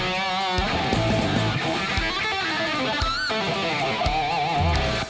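Electric guitar, a dry DI track run through a Guitar Rig amp preset, playing a distorted riff with bright sustained notes and quick picked runs, loud and alone.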